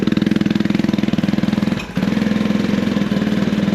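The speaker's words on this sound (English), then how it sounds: "Started right up. But as you can hear, fuel injector is doing its job." A Vitacci Titan 250 motorcycle with a fuel-injected engine and split dual mufflers idles up close after starting, a steady loud rapid putter with a brief dip in the middle.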